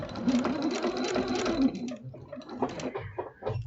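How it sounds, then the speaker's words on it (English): Sewing machine stitching quilting fabric for scrap French roses, a steady continuous motor whir for about two seconds, then slowing into short separate bursts of stitches, close and clear with no talk. "I'll turn and kind of do a blunt stitch at the end and then come back this way"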